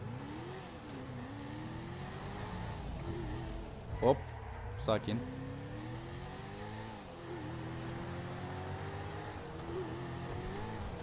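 Car engine in GTA V revving up and down in repeated rising sweeps, close and steady, with someone speaking briefly over it and a couple of sharp clicks midway.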